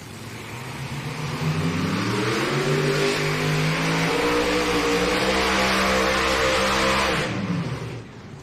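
A pulling tractor at full power makes a sustained, loud roaring engine note that climbs and holds through a run at the NTPA Grand National Tractor Pull in Hutchinson, Minnesota, then fades as the engine shuts down.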